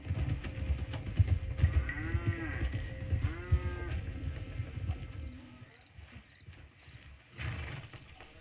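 Cattle low and moo in a few drawn-out calls in Red Dead Redemption 2, set against a dense rumbling outdoor backdrop of a herd and wagon noise, fading toward the end.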